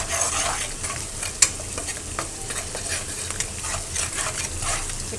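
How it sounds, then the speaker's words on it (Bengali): Pumpkin bori (dried lentil dumplings) frying and being stirred in a wok, with a steady close hiss of oil and occasional scrapes of a spatula against the pan, no voices. "তার জন্য আমি আর একটা কড়াইতে বড়িগুলো ভাজবো"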